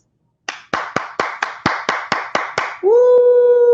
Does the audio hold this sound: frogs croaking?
no